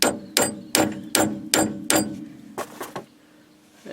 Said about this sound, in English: I'm just going to give it a little tap somewhere safe.